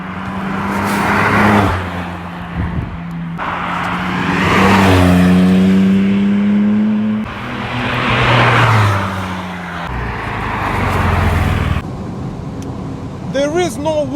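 A 2002 Porsche 996 Turbo X50 pulls hard on the road, its engine note rising and falling through several accelerations with turbo whine, loud and close, while someone talks over it.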